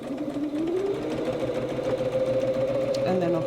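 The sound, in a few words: sewing machine stitching patchwork fabric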